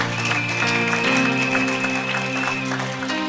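A crowd applauds continuously, with dense clapping under a sustained musical tone and a faint voice.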